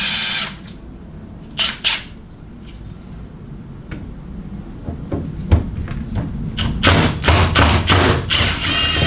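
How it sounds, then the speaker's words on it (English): A socket ratchet works the bolts on a 47RE automatic transmission's lower valve body: soft metallic clicks and clunks at first, then a dense run of rapid ratcheting and tool taps close by, with no talking. "take loose all the bolts that hold your lower valve body onto everything else"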